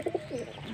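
A domestic pigeon coos softly twice, low and fairly close, then a brief fainter murmur follows in the same quiet setting.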